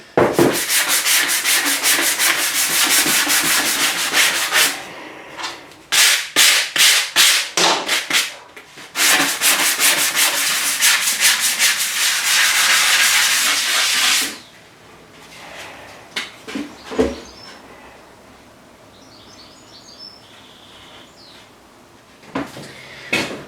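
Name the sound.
sanding, rubbing down a car seat surface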